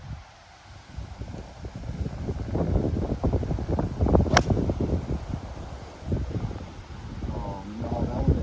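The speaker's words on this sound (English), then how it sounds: "It's a strong wind, that, innit?" Strong wind buffets a golf course, rushing and gusting loudly against the microphone for several seconds, with a brief sharp click near the middle.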